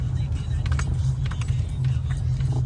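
A car speeds along a street with an old man clinging to its hood, producing a steady low engine and road rumble while people talk over it.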